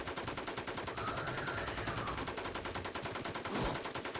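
Sustained automatic gunfire aimed at a boss in WarZ, a fast, even stream of shots that runs continuously throughout and stays moderately loud.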